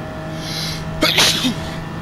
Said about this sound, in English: Sorry for sneezing.